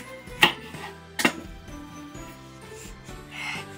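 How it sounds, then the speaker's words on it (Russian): A knife chops a pineapple in half, two sharp crunching cuts close by on a board, followed by quieter handling sounds. "Нарежем ананасик."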